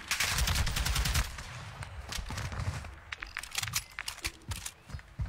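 Rapid bursts of video game gunfire crackle in dense volleys at first, then thin into scattered single shots and short bursts over a steady background, with no talking.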